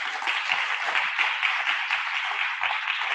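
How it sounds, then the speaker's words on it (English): Audience applause fills the room, a steady dense wash of clapping from many hands at moderate loudness, continuous throughout without talk. "would you applaud?"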